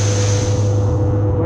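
A new, larger fishing boat's engine being run up toward 3,000 RPM, a loud, close, droning hum with a steady low throb and a faint rising edge, heard alone.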